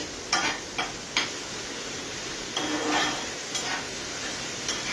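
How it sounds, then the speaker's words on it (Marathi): Vegetables and Kolhapuri masala sautéing in a pan for misal, a soft hiss of frying with a few sharp spatula scrapes and taps against the pan, no talking. "छान परतून घेऊ."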